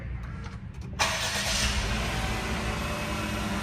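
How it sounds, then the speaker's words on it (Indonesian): A Daihatsu Taft 4x4 kei car with a turbo engine starts from its push button after a second of quiet cabin ambience, then settles into a steady, close idle. "tinggal kita injek rem aja dan tekan engine start button di sebelah kanan sini untuk menyalakan"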